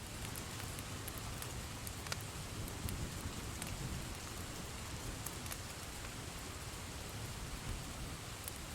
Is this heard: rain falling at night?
yes